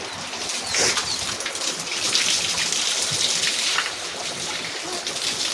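Water spatters and splashes as cows are bathed, a dense, fairly loud wet patter with a few sharper splashes scattered through.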